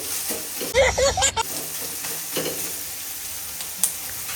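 Capsicum, green chilli and onion frying with salt in a pan, a loud burst of sizzling and stirring early on, then a softer hiss with occasional scrapes.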